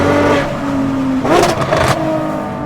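Ferrari 599 GTO engine revving, a close, loud mechanical roar that climbs sharply in a burst midway and then settles back to a steady drone, with no voices over it.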